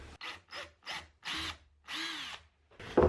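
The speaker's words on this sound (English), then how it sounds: "I'm going to just do a little pre-drill here to kind of toenail into this block." A power drill pre-drills into wood in short bursts, about six quick whirring runs with brief pauses between, close up and without talk.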